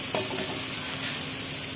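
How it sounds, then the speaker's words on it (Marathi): Finely chopped onion fries in oil with cumin and mustard seeds in a kadhai, a close, even crackling sizzle with a light stir or clink near the start, continuous and unaccompanied by talk. "कांदा बारीक करून कापून टाकलेला आहे त्यामध्ये फ्राय करण्यासाठी"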